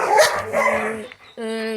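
A Labrador at a dog farm gives a few sharp barks close by, with a brief pause before a longer, tonal bark-like cry.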